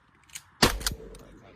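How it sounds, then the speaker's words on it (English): A single sharp shotgun blast during a pigeon hunt in western Wisconsin, loud and close, with a brief echoing tail and a faint voice just before. "You gotta shoot one of them."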